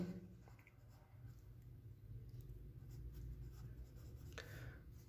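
Pen writing on paper or a board during a physics lesson, faint continuous scratchy strokes over a low room hum, without speech.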